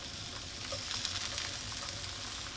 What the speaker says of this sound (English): You can add raw, but I'll just cook some onions anyway. Better put some butter in with these onions